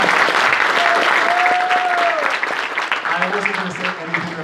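Audience at a Gamescom Cantina Q&A applauds the marketing director, a steady wash of clapping throughout with a voice briefly heard speaking over it.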